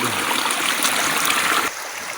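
Mountain spring water in a village rushes and gurgles close by in a steady, broadband stream, dropping slightly in level near the end.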